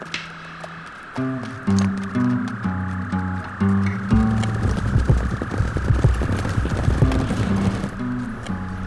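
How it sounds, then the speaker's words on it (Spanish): Horses ridden by a group of mounted riders clip-clop closer, their hoofbeats growing louder and denser over a sustained musical drone, with no talking. "Unos indios salieron a saludarme y nos rodearon montados a caballo."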